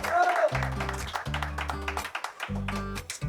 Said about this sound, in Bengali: হাততালি হয়ে যাক একটা।